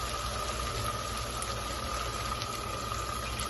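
Steady rushing and bubbling of hot water poured into frying masala for a Nargisi kofta egg curry, a continuous close liquid noise with a faint high hum throughout.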